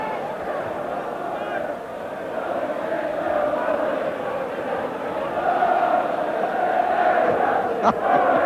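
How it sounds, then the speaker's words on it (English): A football crowd at a Sunderland versus Liverpool match sings a sustained, rolling chant that fills the stadium with a broad, continuous roar under a commentator's voice. "The crowd singing that you only sing when you're losing"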